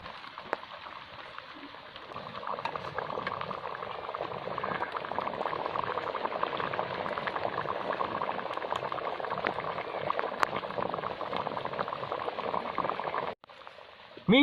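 Red snapper fish curry (kuzhambu) bubbles in a pot at a steady, dense boil, a close continuous burbling that runs unchanged for most of the time and cuts off abruptly near the end.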